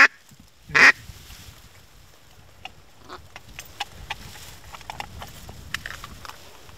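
Ducks quacking on a lake during a North Dakota duck hunt, one loud burst of calls near the start followed by scattered fainter quacks and splashy ticks over quiet water.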